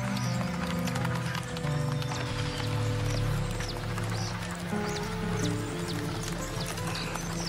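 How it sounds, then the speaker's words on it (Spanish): Horse hooves clip-clop in a steady rhythm at close range, with a brief whinny and faint birdsong in the background, continuous throughout. "A ver, aguante el caballo."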